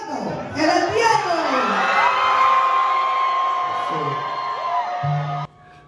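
A packed concert crowd for a Cuban rapper roars and whoops in a loud sustained swell of cheering and shouting voices that cuts off abruptly.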